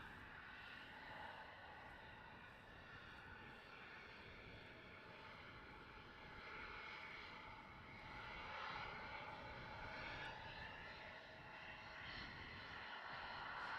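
An airliner departs from runway 36L at Amsterdam Schiphol at night, its engines giving a continuous broad roar that holds steady and swells slightly, heard from a distance and fairly faint.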